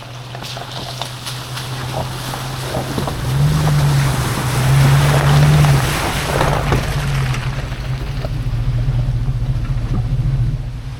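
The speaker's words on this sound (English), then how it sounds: "Oh man, the water splashing here." A vehicle splashes and churns steadily through a water crossing in North Georgia alongside a low engine hum, with a surge of rushing spray in the middle before settling back into a constant wash.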